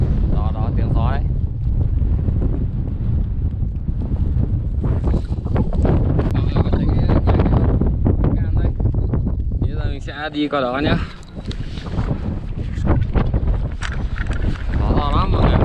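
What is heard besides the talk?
strong wind blowing on Mount Fuji in snow season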